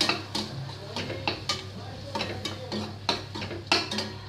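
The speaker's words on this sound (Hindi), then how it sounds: "और इस मसाले को अच्छे से फ्राई कर लूँगी मैं यहाँ पे" Spatula clinks and scrapes against a pan as spice masala fries for an achari okra and potato curry, with short, irregular taps over a faint steady sizzle and hum.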